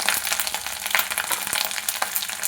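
Whole cumin seeds with ginger and green chilli paste frying in hot oil, a steady close sizzle with scattered crackles running without pause, no voices over it.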